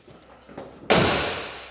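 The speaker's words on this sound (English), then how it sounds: "Love that sound of the door slamming nice and tight." A 1977 Chevrolet K5 Blazer door slams shut once, a sharp loud close impact with a short decaying ring, heard near after a few quiet handling sounds.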